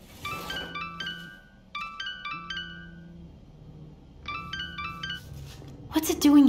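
An electronic phone ringtone in the Tell Me Why video game, repeating in short melodic bursts with pauses between, over a low ambient background, followed by a brief loud sound at the end.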